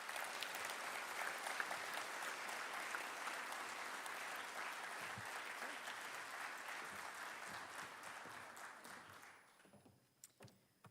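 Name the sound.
audience applause at a conference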